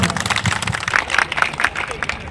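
Villagers at an outdoor 2024 Lok Sabha election street-corner rally in Barai village, Kaushambi, clap in a loose, brisk patter of many hands, fairly close and steady, with some voices mixed in.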